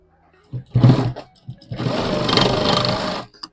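A sewing machine stitches a bag, with a short run of stitching followed by a longer steady whirring burst, loud and close, with brief taps between.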